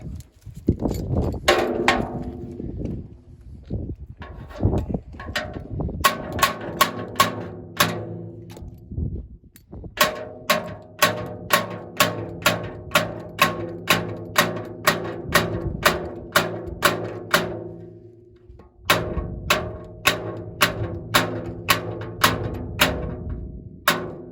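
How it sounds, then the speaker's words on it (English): Steady metallic hammer blows ring out on tractor sheet metal, hammering out a dent, dozens of loud, evenly spaced strikes in long bursts with brief pauses between runs. "Let's see if we can bang on that a little bit."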